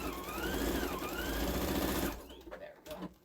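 A sewing machine restitches a seam on a Santa placemat, a close, loud whirring run for about two seconds that then stops, followed by a few soft handling sounds.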